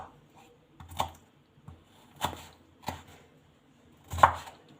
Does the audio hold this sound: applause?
no